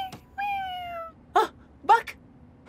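A cartoon cat gives a drawn-out meow, then two short bright mews, clear and close, in a children's animated bus show; no talk over it.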